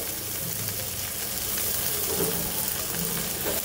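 Potatoes and flat beans drop into onions frying in a pan, raising a steady, close sizzle that holds evenly throughout, with faint stirring and no talking.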